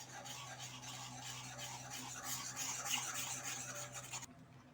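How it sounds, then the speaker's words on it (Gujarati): Buttermilk being whisked into batter for Gujarati khandvi: a steady, fast scratchy stirring and rubbing at close range, quiet and continuous for several seconds before stopping abruptly. "હવે તમારે આને વિસ્કરની મદદ વડે મિક્સ કરી લેવાનું છે।"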